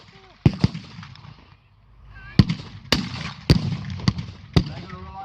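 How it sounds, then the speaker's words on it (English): A 25-pounder field gun and other blasts fire at a battle reenactment: sharp, loud reports spaced irregularly, about seven in all, with distant commentary-style talking between them. "They're going to rely on this 25-pounder to pound the German position."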